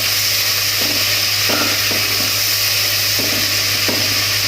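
Chicken pieces fry loudly in a hot pan for restaurant-style chicken vegetable fried rice, a constant dense sizzle broken by soft rhythmic scrapes of stirring, with no voices.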